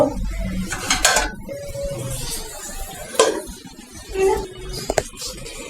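Kitchen clatter from a pot of kakrol being cooked and covered with a lid: scattered metallic clinks and knocks, including a ringing lid contact, at moderate level with no talking.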